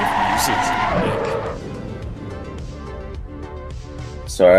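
Race car engine in a sim racing session, a loud sustained roar that drops in pitch after a second and keeps droning steadily under background noise to the end, with no one talking over it.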